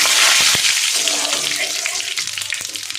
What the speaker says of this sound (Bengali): তেল গরম হয়ে গেছে, এবার আমি ফোড়নে গোটা জিরে দিয়ে দেব, আর একটা তেজপাতা দিয়ে দেব।